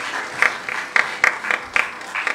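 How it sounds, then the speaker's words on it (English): Round of applause from the audience at a public speaking competition, a moderate crowd clapping steadily with a few louder close claps punctuating the wash. "Give him a round of applause, both men."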